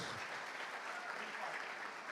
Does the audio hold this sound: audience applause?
yes